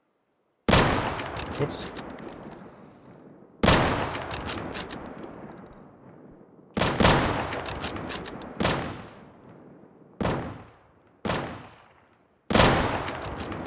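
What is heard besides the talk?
shotgun gunfire in the video game Deadside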